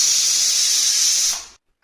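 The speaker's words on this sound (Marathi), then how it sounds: "कुकरच्या चांगल्या शिट्ट्या आता 5-7 करून घेते आता." A pressure cooker, boiling sprouted moth beans, vents steam in a loud, steady hiss that holds for over a second, then cuts off abruptly into silence.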